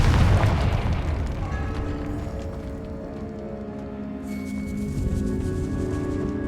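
A Confringo fire spell from Hogwarts Legacy goes off with a loud, deep boom at the start, then a long rumbling tail that stays full and steady, with no voices over it.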